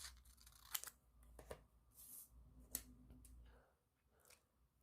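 Scissors cut paper for an origami Christmas card, making several faint, close snips and rustles spaced unevenly over a few seconds in a quiet room.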